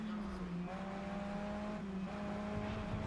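Race car engines in the video game GRID Legends drone in the background, with steady engine tones that shift pitch as gears change. A person talks over them throughout.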